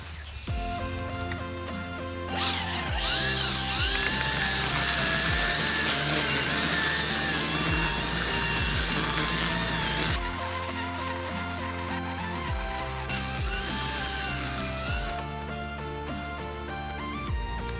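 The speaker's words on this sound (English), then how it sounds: "see how much grass I can cut with this Milwaukee M18 Fuel 9 amp hour string trimmer" A Milwaukee M18 Fuel cordless string trimmer with a 9 amp-hour battery cuts grass with a loud, continuous whirring whine that rises and dips in pitch as it works through the growth.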